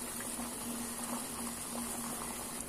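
Sugar syrup with cardamom powder boiling in a pot for gulab jamun, a steady close bubbling and hiss that runs evenly throughout with no talk.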